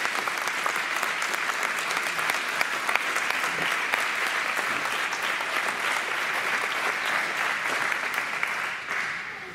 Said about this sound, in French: on peut faire un petit honneur d'applaudissements parce qu'ils ont fait le déplacement